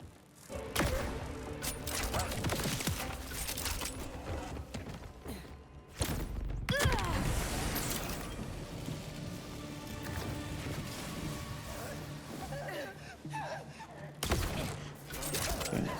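Gunfire crackles in the video game Borderlands 4, with dense bursts of shots and impacts under steady talk from a player.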